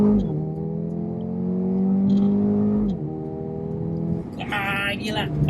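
A 2020 Mercedes-AMG A 35 4Matic engine is held at steady high revs, drops briefly, then launches hard as the brake is released, a loud close roar with rising pitch and a burst of broadband noise. Voices may be present underneath.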